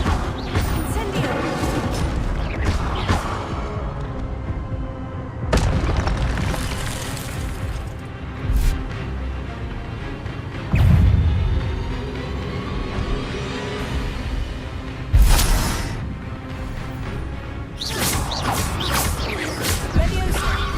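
Fire spell cast in the Hogwarts Legacy video game among a busy run of other spells, with whooshes, smashing crashes and booming impacts layered over continuous game music and effects, loud and close.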